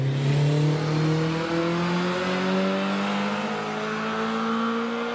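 A Ferrari 308 GTB accelerates at the Prescott hill climb, its engine note rising smoothly through a single long pull, loud and close, with a slight whir riding along.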